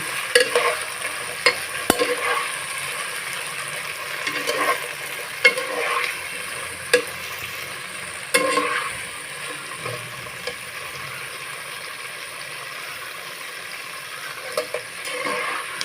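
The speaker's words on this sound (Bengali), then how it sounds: "আমি একটু সময় নিয়ে ভাজবো" Rui fish pieces frying in a pan with oil, a steady low sizzle under frequent clinks and scrapes of a spatula against the pan, fairly close and with no talking.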